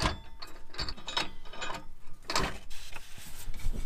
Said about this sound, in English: So now we just tighten the bolts up.